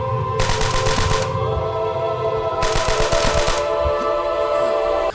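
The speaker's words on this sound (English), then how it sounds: "the guns all sound excellent in World at War, especially the iconic MP40" An MP40 submachine gun in the World War II shooter World at War fires two loud, rapid, rattling bursts of about a second each, separated by a pause, over a steady droning tonal background.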